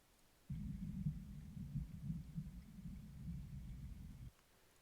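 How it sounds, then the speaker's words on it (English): Muffled underwater ambience loop from the Aquas water asset in Unity, a low, dull rumbling wash that starts abruptly, holds steady for about four seconds with slight throbbing, then cuts off. "You've got an underwater effect with distortion audio"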